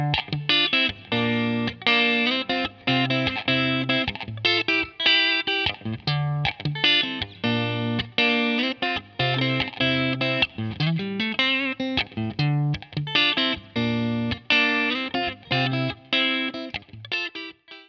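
A Yamaha Pacifica 212VQM maple-top electric guitar plays through a Marshall DSL-40 amplifier, with chords and riffs that move between clean and crunchy distorted tones. It plays on loud and steady with no talking.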